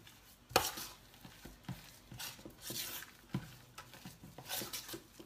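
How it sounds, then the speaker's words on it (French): Spoon gently folding whipped cream into chocolate bavarois in a bowl, soft irregular wet scraping and light taps, quiet and close, repeating in slow uneven strokes. "Et on va commencer à mélanger tout doucement"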